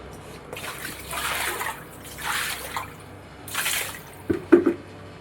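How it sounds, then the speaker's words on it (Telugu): Water poured from a container onto a doorstep floor to wash it in the morning, three separate splashing pours followed by a couple of sharp knocks. "గుమ్మం దగ్గర నుంచి వాకిలి వరకు మొత్తం వాటర్ పోసుకొని కడుక్కొని ముగ్గు పెట్టుకుంటాను"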